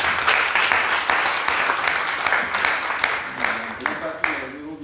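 A church congregation at an evening Mass applauds its priests with sustained, full clapping from many hands filling the room, while a voice can be heard speaking over the applause.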